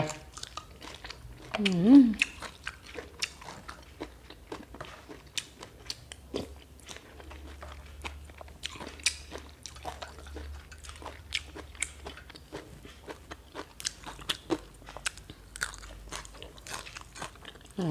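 Someone eating big fresh raw oysters with acacia shoots, fried shallots and seafood dipping sauce, with close wet bites, slurps and chewing scattered throughout while a person talks.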